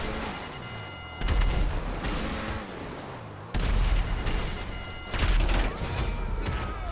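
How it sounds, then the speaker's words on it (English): Declasse Scramjet missiles striking and exploding in Grand Theft Auto 5, three heavy booming blasts a second or two apart, each with a sharp crack and a rumbling tail, loud and close over a steady engine drone. "The accuracy of these missiles are brilliant."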